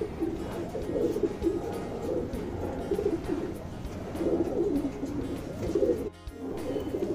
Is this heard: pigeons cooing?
yes